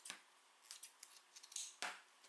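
Scissors trim excess fabric and a zipper end on a sewn pencil case, giving a few close, crisp snips and scraping cuts spaced across quiet moments, with no talking.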